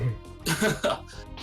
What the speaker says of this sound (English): my throat gets dry and I cough